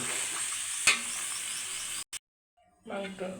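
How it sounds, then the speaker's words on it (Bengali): Meat frying with spices in a kadai, a steady hiss of sizzling that cuts off abruptly into silence, then resumes briefly. "মাংসটা দিয়ে আমি কিছুক্ষণ কষিয়ে নেব।"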